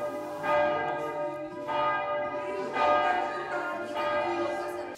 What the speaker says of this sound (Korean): 내부 잔디에서 종소리를 들으며 여유를 즐깁니다.